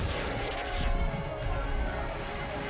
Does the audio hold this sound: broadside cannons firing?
yes